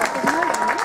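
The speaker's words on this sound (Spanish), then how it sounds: "Sí, aplauso también" Applause at an Easter Sunday street celebration in Villa San Andrés, a steady, dense clatter of clapping that fills the moment, with a voice talking over it.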